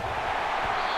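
A football stadium crowd at a Mississippi State vs. South Carolina game roars loudly, a dense, continuous wash of noise.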